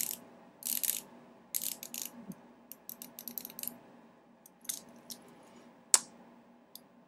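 A Seiko Shogun dive watch bezel with a replaced spring turns in bursts of crisp, close ratcheting clicks, with pauses between them and a sharper metallic click near the end.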